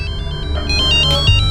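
A mobile phone ringtone plays a steady repeating electronic melody, fairly loud and close, with no talking over it.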